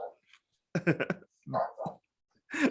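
Small dog barking a few short, sharp times in separate bursts, close and moderately loud, with no talk over the barks.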